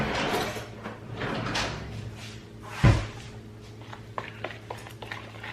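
A kitchen drawer opens with a brief wooden slide and a sharp thump midway, set against steady low room hum and small scattered clicks of utensils nearby.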